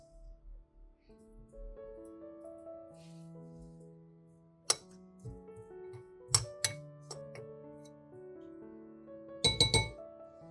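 Clinks and taps of a utensil against a glass bowl while salted chopped garlic is mixed, with sharp clustered strikes near the middle and end of the passage over quiet scraping.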